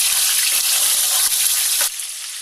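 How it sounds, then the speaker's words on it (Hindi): Soybeans frying in hot oil, a steady loud crackling sizzle filling the clip up close, easing slightly near the end, with no voices. "इसमें सोयाबीन फ्राई करेंगे।"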